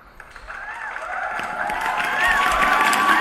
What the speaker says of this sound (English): Let me give him a round of applause.